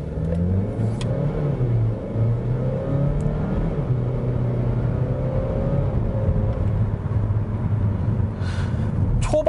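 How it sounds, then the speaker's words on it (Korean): A Kia Seltos 1.6 T-GDI AWD engine revs up from a stop under hard acceleration and pulls away, its note climbing through gear changes, steady and close with no talking. "엑셀을 한번 밟아 볼게요."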